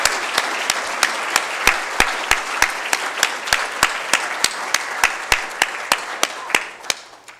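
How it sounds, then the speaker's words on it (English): Audience applause at a university debate, with one close, loud clapper's sharp, evenly spaced claps standing out over a steady wash of crowd clapping that fades near the end. "I'd like to ask you for a round of applause for this marvelous advocacy."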